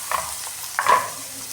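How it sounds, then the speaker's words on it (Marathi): Mixed vegetables including carrot, cauliflower and tomato sautéed with turmeric in a pan for pulao, giving a steady close sizzle with a couple of brief stirring scrapes and no talk. "हे व्यवस्थित परतून घेणार आहे"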